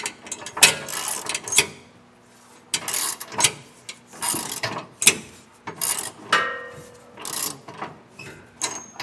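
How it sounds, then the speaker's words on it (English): A socket wrench snugs down the bolts of a Curt E16 5th wheel trailer hitch on a 2015 Ram 1500, using a 15/16 or 24mm socket. Close, repeated bursts of sharp ratcheting clicks come in short uneven spurts separated by brief pauses. "when you're snugging these down, you can use either a 15/16 socket and wrench or a 24mm socket and wrench"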